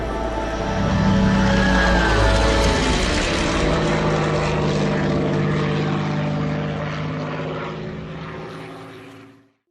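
A Corsair aircraft's piston engine roars loudly and steadily in Microsoft Flight Simulator, a close, deep propeller drone that slowly fades before cutting off.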